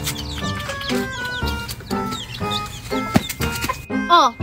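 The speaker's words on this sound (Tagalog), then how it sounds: "Tinatakot mo naman yung manok. Ayan tuloy, lumalayo." Chickens clucking and squawking amid busy background noise and voices, short repeated calls with a sharper cluck near the end.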